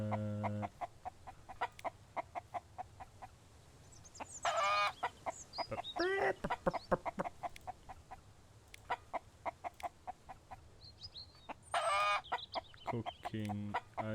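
Chickens in the survival game Mist Survival cluck in short bursts, with a few louder squawking calls standing out over a steady low hum. Brief voices come and go between them.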